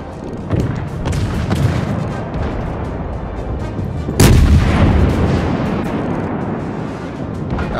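Heavy naval guns fire in a World of Warships battle, a rumbling cannonade with a loud sharp blast near the middle, followed by a rolling roar of continued gunfire and booms.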